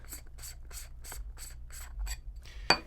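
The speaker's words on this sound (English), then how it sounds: "So what you do to put it on is you unscrew the back cap like this." Someone twists the back cap off a variable ND filter, giving about eight short, evenly spaced gritty rubbing strokes of threads turning, close up, ending in a small sharp click.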